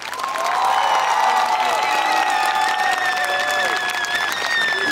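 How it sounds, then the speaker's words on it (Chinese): A large audience applauding and screaming for a fire dance troupe, dense sustained clapping with loud, high cheers and shrieks throughout, close and full. "可以给我们一个表演者最梦寐以求的掌声与尖叫吗"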